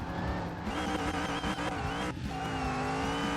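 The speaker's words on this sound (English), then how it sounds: "Can we do donuts?" A car spins donuts in Car Mechanic Simulator, a junkyard Mustang build, with tires squealing continuously over a steady engine drone, loud and close, with a brief dip partway through.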